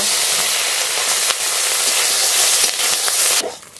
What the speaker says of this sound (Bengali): একই তেলের মধ্যে বাকি মাছগুলো ভেজে নেব।